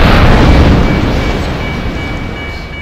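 A video game train passes with a loud, heavy rumbling roar, strongest at the start and slowly fading, with a faint steady high whistle tone running through it.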